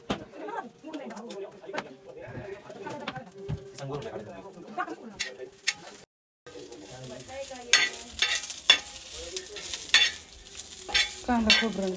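Onion, coconut and garlic masala roasting in a pan, with stirring scrapes and frying crackle near and fairly loud, under talk and with birds cooing in the background.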